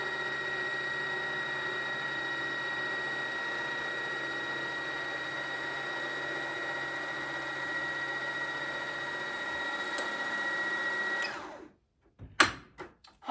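A sewing machine stitches fabric for a robe, running as a steady continuous mechanical whir for about eleven seconds, then stopping abruptly, followed by a few brief clunks and handling noises.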